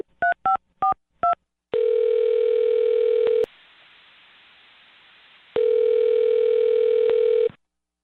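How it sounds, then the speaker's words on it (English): Telephone dialing: four quick touch-tone beeps, then a steady dial or ringback tone that pauses and resumes, loud and clean with no voices. "I'm going to dial his phone number right now and see if we can figure it out for you."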